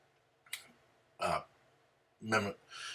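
Hiccups from someone speaking on nonfiction reading, a few sharp, close throaty jolts spaced about a second apart, with fragments of his voice between them.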